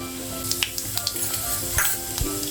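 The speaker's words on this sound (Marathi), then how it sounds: "जिरं चांगलं तडतडलं की" Cumin seeds crackle and pop in hot oil, a steady sizzle dotted with irregular sharp snaps close up, with no voices.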